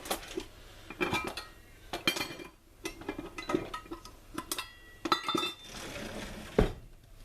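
A metal stand-mixer beater, coated in lemon drop cookie dough, is shaken and tapped against a mixing bowl, giving a run of sharp, irregular clinks and clatters with quiet pauses between.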